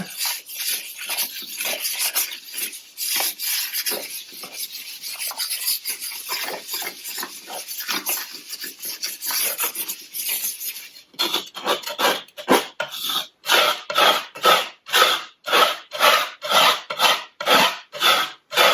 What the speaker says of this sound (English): I'm just scraping it because what that does is it will allow some of the gray underneath to show through a little bit